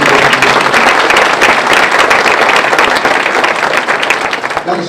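An audience claps in sustained, dense applause at a Black History Month business breakfast and scholarship event, loud and steady throughout before tapering slightly at the end.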